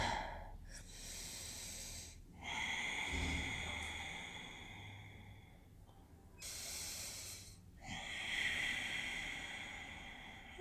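Slow, deep yoga breaths during a stretch, long airy inhales and exhales alternating in a steady rhythm with short pauses, close and soft.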